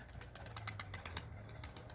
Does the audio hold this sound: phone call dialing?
no